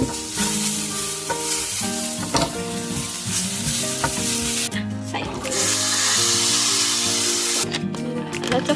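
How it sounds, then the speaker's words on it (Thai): Galangal and lemongrass dry-roast in a pan, giving a continuous close hiss and crackle with occasional scraping, over steady background sound. "เราจะ คั่ว ข่าตะไคร้ไปก่อนเลยนะคะ คั่วให้หอมก่อนนะ"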